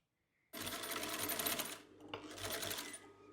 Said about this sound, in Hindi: फिर हम सिलाई लगाएंगे